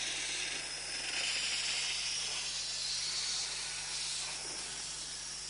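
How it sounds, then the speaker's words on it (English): A 120-year-old steam engine releases a continuous soft hiss of steam, faint and even throughout, with a low background hum and no talk. "The fire heats the water and makes steam."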